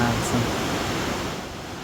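A continuous rushing of a river on the route from Pokhara to Mustang, Nepal fills the scene, a broad steady roar, fading slightly near the end.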